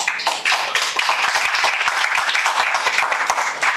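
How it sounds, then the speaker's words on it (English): A crowd applauds a youth football team, a dense, steady patter of many hands clapping at once, fairly close and filling the whole moment without speech. "They deserve a round of applause for that."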